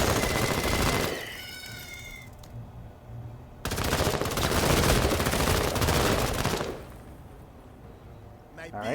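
Gunshots in the Menace game come as two long bursts of dense rapid fire, separated by a quieter gap, with a voice speaking over the action.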